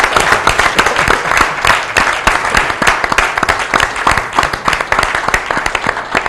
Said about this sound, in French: On applaudit Cher Diaby et Raymond.